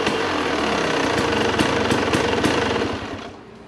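A Rieju Ranger dirt bike engine runs close by with a loud, rapid, rattling idle that holds steady, then fades down near the end.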